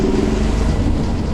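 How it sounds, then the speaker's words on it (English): Ship engines starting up and running at full steam, a steady loud low rumble with broadband noise that holds constant and close throughout, no voices. "Engines ye start. Full steam we go, now."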